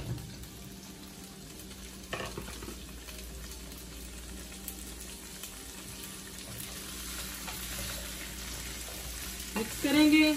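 Potatoes tipped into a pan for aloo phaliyan, a green beans and potato dish, fry and sizzle steadily while being stirred, with a brief clatter near the start and a louder scrape and sizzle burst at the end.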